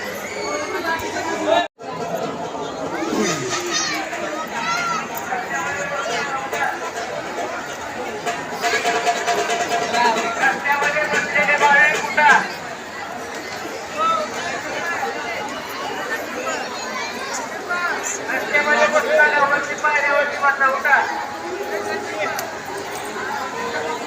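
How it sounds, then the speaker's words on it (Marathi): A large crowd chatters steadily in the Tuljapur temple town, a dense babble of many overlapping voices, loud and close, with one sharp brief dropout early on. "तुळजापूरमध्ये खूप गर्दी आहे आज खूपच गर्दी आहे"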